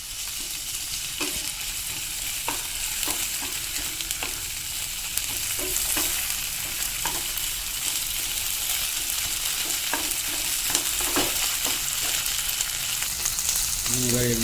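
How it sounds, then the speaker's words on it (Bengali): Onion with ginger-garlic paste frying over medium heat in a pan, a steady broadband sizzle with regular scraping strokes of a spoon stirring throughout, close and fairly loud, no talk. "পেঁয়াজ আর আদাটা কালার চেঞ্জ হয়ে গেছে, ফ্রাই হয়ে গেছে।"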